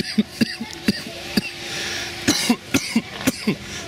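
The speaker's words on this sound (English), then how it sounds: "I'm still coughing from the last one." Repeated coughing, about ten short harsh bursts in an uneven rhythm, close and fairly loud, from a player on a break during an Olympic bobsleigh game session, with a faint tone and background noise between the coughs.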